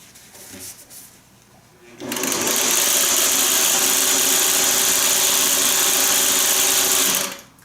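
A Singer 301 sewing machine whirs into a fast, steady mechanical run for about five seconds, close and loud, after a few quiet handling sounds, then stops.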